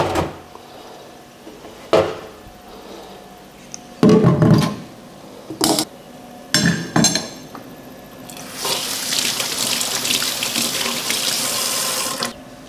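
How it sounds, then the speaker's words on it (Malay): A gas stove burner being washed in a kitchen sink, with sharp clatters and knocks of metal parts, then a steady loud rush of tap water running over them near the end. "cara kita bersihkan senang saja, kita cuci saja di sinki"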